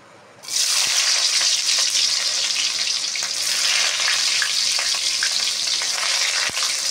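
Garlic dropped into hot oil for chilli paneer, a loud steady sizzle bursting in suddenly and holding on densely, with a couple of faint utensil taps.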